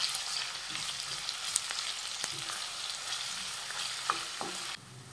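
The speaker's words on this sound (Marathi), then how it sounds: "आणि हा कांदा हलक्या सोनेरी रंगावर परतून घेऊयात।" Finely chopped onion sautéing in a pan for Maharashtrian pithla, a soft steady sizzle with light stirring taps that drops off near the end, no voices.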